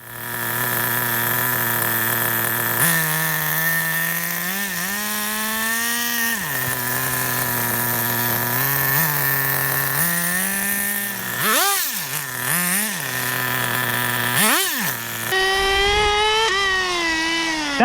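A nitro-powered Redcat Rampage TT RC car, fitted with a two-speed gearbox, runs continuously in a loud, buzzing engine whine that rises and falls sharply with repeated throttle blips and revs while drifting.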